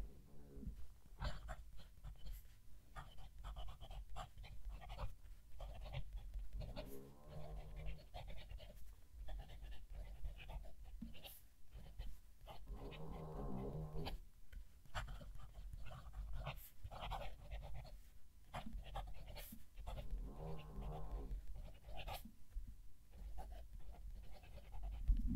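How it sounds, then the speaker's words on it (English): Visconti Breeze fountain pen nib scratching across paper with the microphone held close to the page, giving a steady run of soft, breathy strokes and occasional faint squeaks, with no talking. "I'll move the mic down to the page and write a sentence."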